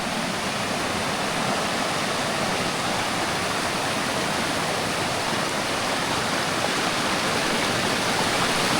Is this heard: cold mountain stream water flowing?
yes